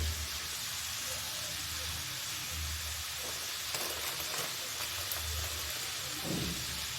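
Amla pickle sizzles steadily in a pan over a low flame, a soft continuous hiss and crackle with faint intermittent clatter throughout.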